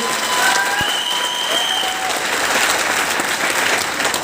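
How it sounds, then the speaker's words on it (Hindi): Warm, loud applause from an audience in tribute to a late friend, dense clapping sustained evenly for several seconds with no one speaking. "मैं चाहूंगा एक बार जोरदार तालियां उनके लिए।"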